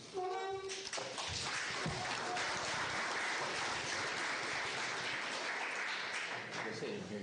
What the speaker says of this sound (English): We can applaud everybody at the same time, right?